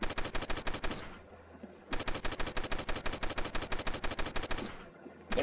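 Automatic gunfire in a Roblox zombie-fighting game comes in two long, loud machine-gun bursts with rapid even shots, separated by a short pause, close and with no talk.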